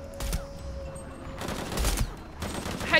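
Gunfire in Shadow of the Tomb Raider, several loud bursts of shots close together over steady game ambience across a few seconds, without talk.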